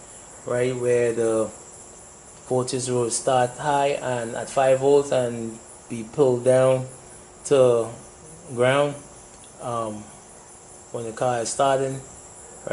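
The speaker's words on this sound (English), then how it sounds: "it's late in the night, you hear the crickets in the background." Crickets chirp outside late at night beside a car being diagnosed, a faint high continuous trill running steadily beneath a man's nearby speech.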